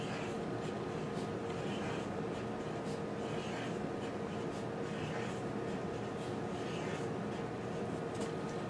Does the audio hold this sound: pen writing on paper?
yes